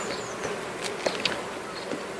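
Close, continuous hum of honey bees inside a beehive, a steady buzzing mass with a few faint brief clicks over roughly two seconds.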